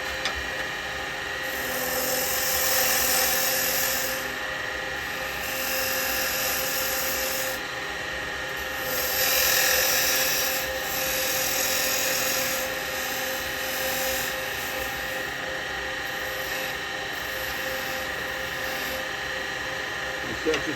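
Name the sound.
wood lathe turning a tenon with carbide tool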